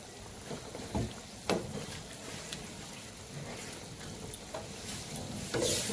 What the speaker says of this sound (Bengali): এদিকে পেঁপে ভাজা প্রায় হয়ে গেছে